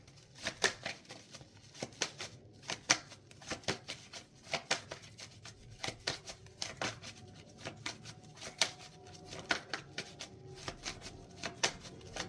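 Tarot cards are shuffled by hand to draw a clarifier card, producing a long run of crisp, rapid papery riffles and slaps in irregular bursts, close and clear with no talking.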